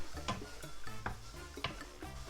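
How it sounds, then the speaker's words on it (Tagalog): A spoon scrapes and taps against a pan while stirring thick peach and mango jam filling, a slow, regular rhythm of soft knocks over a faint sizzle, close and quiet. "stir nyo lang lagi slowly kasi didikit siya pag hindi nyo siya ni-stir"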